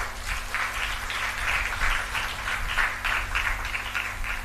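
A church congregation claps together in sustained, dense applause that stays even and fairly loud throughout, with no voices standing out.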